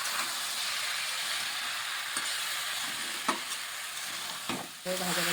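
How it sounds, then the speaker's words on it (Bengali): Rice, dal and winter vegetables frying together in a pan for khichuri, a continuous soft sizzle with a few scraping stirs and knocks of the spoon. "চাল ডাল সবজি একসাথে একটু ভেজে নিচ্ছি"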